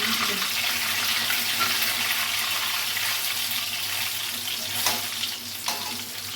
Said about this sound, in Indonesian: Goreng sampai selesai.